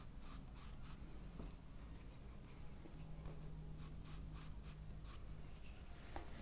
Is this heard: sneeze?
no